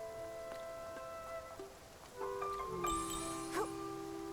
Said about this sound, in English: A rainy day is perfect for picking rainy orchids.